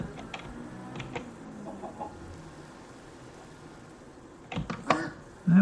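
An emerald chicken in the modded Minecraft pack FTB One clucks in short scattered bursts against a quiet background of game ambience and low mechanical hum, with the clucks louder near the end.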